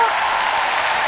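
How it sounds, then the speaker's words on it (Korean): A lecture audience at a Korean talk on hiring trends claps in a brief, dense, steady burst of applause as a speaker is welcomed. "뜨거운 박수 부탁드리겠습니다."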